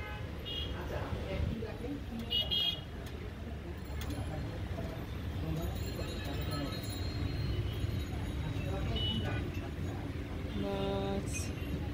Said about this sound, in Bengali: বাস, রিক্সা, মোটর বাইক, কত কিছু